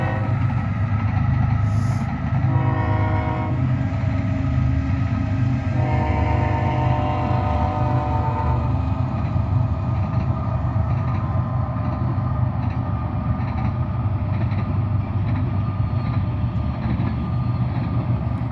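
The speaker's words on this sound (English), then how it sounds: "And we got a train coming." A train rumbles past near an airport as a loud, steady low roar that fills the whole stretch, with brief tonal horn-like bands early on and no voices.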